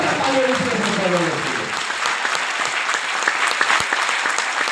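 Loud, dense applause from an audience at a motivational speech in Hindi, clapping steadily throughout after a brief voice at the start, with no pause.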